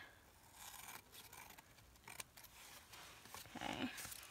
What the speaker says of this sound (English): I'm going to go ahead and cut it.